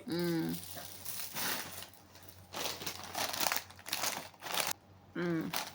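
A snack packet inside a gift, thought to be Lay's chips, crinkles and crunches in several uneven bursts close to the microphone, with short vocal sounds at the start and end.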